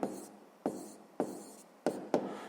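Pen marks go down on paper while a math solution is written out: five quick, close scratchy strokes, each starting sharply and fading, spaced irregularly, quiet with no voices.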